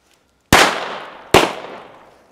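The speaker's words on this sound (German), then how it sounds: "Klein Piccolo Corsair. Das sind kleine Reiber, bitte schnell wegschmeißen. Die explodieren meistens sehr schnell." Two small Piccolo Corsair firecrackers go off about a second apart, each a sharp, loud crack with a short ringing decay, set off outdoors on New Year's Eve with no talking.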